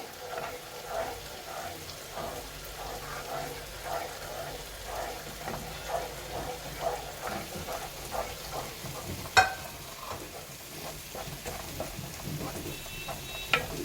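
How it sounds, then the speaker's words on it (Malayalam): Quiet, rhythmic scraping of a spoon stirring roasted semolina for mussel biryani in a pan, repeated strokes over a soft background sizzle with an occasional clink. "ഒരു കൈ കൊണ്ട് ഇളക്കിയിട്ട് ഒരു കൈ കൊണ്ട് ഇട്ട് കൊടുത്താൽ മതി"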